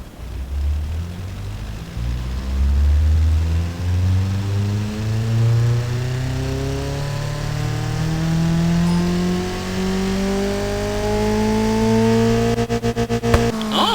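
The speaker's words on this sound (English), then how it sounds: "oh, nice engine sound." A pushrod car engine in an engine-building sandbox game revs up smoothly and continuously, its pitch climbing steadily over many seconds before a quick crackle at the top, loud and alone.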